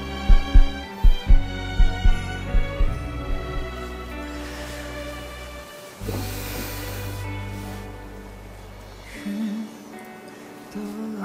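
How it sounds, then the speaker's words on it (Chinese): Slow, heavy heartbeat thumps pulse through the opening seconds of a romantic embrace in a Taiwanese TV drama, gradually fading under a swelling music score. "听得到我的心跳吗？"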